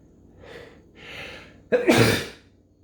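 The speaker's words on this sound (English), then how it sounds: "Hold on, I gotta sneeze." Two soft indrawn breaths build up, then a single sharp, forceful sneeze bursts out close by and trails off into quiet.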